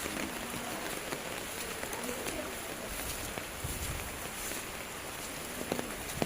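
Steady rain patters across the whole clip, a dense even hiss with occasional louder drops, no voices.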